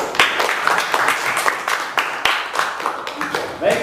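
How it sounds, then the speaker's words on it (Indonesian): Applause from an audience at an Indonesian Q&A session, dense clapping that rises and falls steadily for a few seconds, with some voices mixed in. "Kasih aplaus."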